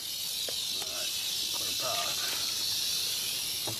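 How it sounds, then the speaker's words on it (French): A large rattlesnake gives a steady, loud, buzzing rattle that is mixed with hissing. A few brief voices come in faintly underneath it. "C'est un gros serpent à sonnette."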